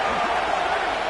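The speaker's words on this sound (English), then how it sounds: "This crowd ready to make its presence known." Broadband stadium crowd roar at a college football game, a steady, dense wash of many voices swelling in the background throughout.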